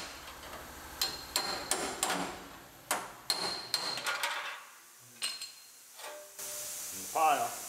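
Sharp metallic knocks and taps ring out in an irregular series, a spot weld breaker prying and striking out welds on a 2006 GMC Sierra, fairly quiet with a faint voice near the end.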